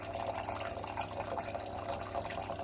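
Water runs steadily from a Hydrofast C100 countertop reverse-osmosis filter into a cup, giving a faint, continuous trickling splash with no talk.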